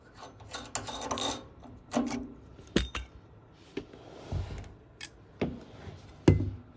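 The head of a radiator valve is unscrewed by hand, giving scattered close clicks, scrapes and gritty metal rasps in irregular bursts with quiet gaps between them.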